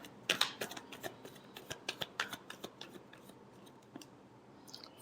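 Tarot cards being shuffled, a quiet run of crisp riffling snaps and taps that trails off toward the end.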